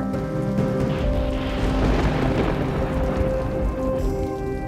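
Steady, heavy rain pours down in a dense continuous patter and wash, loud and close, with a low rumbling undertone and no talking.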